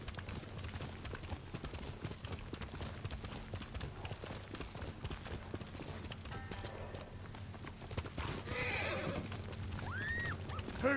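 In Ghost of Tsushima, a horse gallops with rapid, rhythmic hoofbeats close up, then neighs as it slows toward the end.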